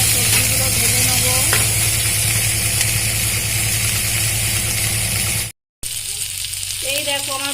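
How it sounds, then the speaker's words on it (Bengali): Vegetables frying in a pan during meat pulao cooking, a steady loud sizzle with stirring, briefly cut to silence near the end before the frying resumes. "দিয়ে এবার সবজিগুলো ভেজে নেবো"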